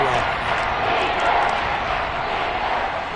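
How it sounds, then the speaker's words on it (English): Stadium crowd in the Madden 22 American football video game roars in a loud, steady, dense wash, with a voice speaking over it throughout. "The crowd getting into it as we come up on a big 3rd down"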